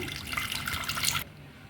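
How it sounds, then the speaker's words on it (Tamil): Water pours steadily into a pot while cooking yam fry, with a bright splashing rush for over a second, then cuts off abruptly, leaving quiet. "இப்போ தண்ணி சேர்த்துக்கலாங்க."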